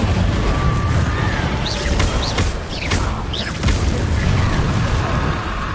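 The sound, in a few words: Incendio fire spell cast in Hogwarts video game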